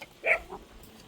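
A small dog with a crippled leg lets out one short, sharp bark close by, followed by a softer yelp, both fairly quiet against a still background.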